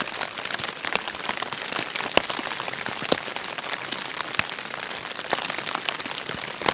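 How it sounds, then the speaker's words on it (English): Heavy rain pours steadily onto a tent on an overnight Appalachian Trail hike, a dense, close, continuous patter of drops with no voices. "It is pouring the rain, as you guys can hear."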